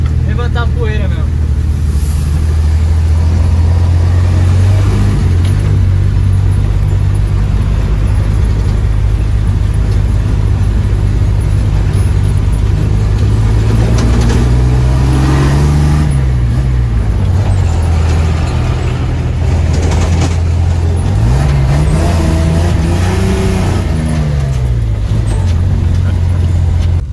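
A Chevrolet Veraneio 4x4 drives along a dirt trail near Pedra Grande in Atibaia, its engine droning loudly and continuously from inside the cab, rising and falling in pitch as it climbs and shifts, with people talking over it.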